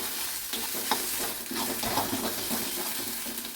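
Ghetkol leaf mash being stirred in a pan for bhorta, with steady scraping strokes and a soft sizzle running throughout, close and fairly loud, no talking.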